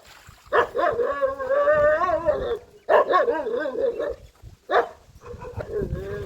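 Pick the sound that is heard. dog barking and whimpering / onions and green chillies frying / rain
dog barking and whimpering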